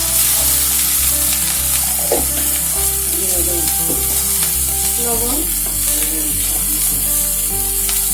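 Egg and cauliflower sizzle steadily in a pan with coriander powder and salt while being stirred, with spatula scrapes at intervals over a continuous loud frying hiss and soft background music.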